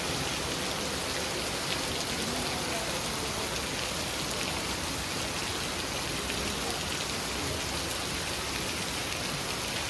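Heavy rain pours steadily near Kondeshwar Temple in Badlapur, a dense, unbroken hiss of drops on surfaces lasting throughout, loud and close with no voices.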